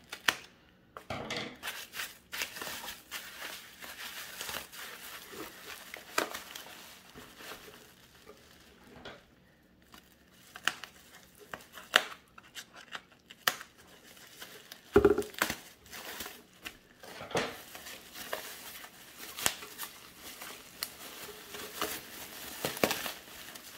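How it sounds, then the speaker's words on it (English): Bubble wrap being pulled and unwrapped from a used camera package, with irregular bursts of close plastic crinkling and crumpling separated by quieter pauses, no talking. "Bubble wrap's kind of winning the battle here."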